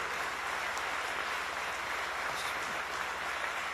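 A crowd at a speech at the Lordstown Motors automobile plant applauds, a steady, even wash of clapping heard from a distance at moderate level.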